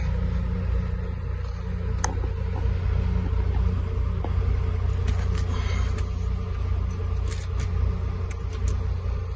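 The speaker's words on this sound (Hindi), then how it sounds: "गाड़ी स्टार्ट कर दी है, हीट पे भी रख दी जाए।" A car engine idles with the heat running, a steady low rumble and blower hum close by and unbroken, with a few faint clicks and no one talking.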